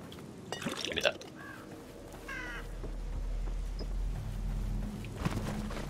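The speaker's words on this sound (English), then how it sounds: "Those birds scared me then." Birds in The Evil Within horror game give a couple of sudden crow-like caws near the start, followed by low ambient rumble and faint dripping water.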